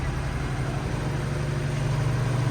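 A 1086 feed tractor idling on a farm, a steady low diesel rumble with a constant hum, close by and alone with no talk.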